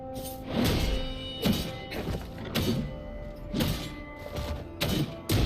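Repeated heavy thuds and booming impacts from explosions in the video game Jotun, about six loud bursts spaced roughly a second apart over a steady low rumble, close and punchy with no talking.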